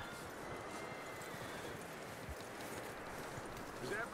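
Horse hooves plod in Red Dead Redemption 2 through a snowy landscape, a soft, steady clip-clop under a constant windy hiss.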